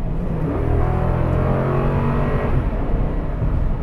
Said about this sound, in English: It's a V8, it sounds pretty good, of course.